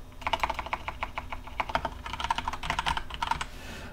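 Rapid keystrokes on a computer keyboard while entering code for a Unity 5 UI button script, a close, steady run of clicky taps with brief pauses, no voice over them.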